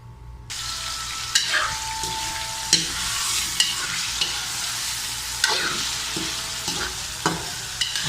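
Marinated chicken liver sautés in a little corn oil, a bright continuous sizzle that starts abruptly, punctuated by periodic scraping stirs and clacks of a utensil in the pan.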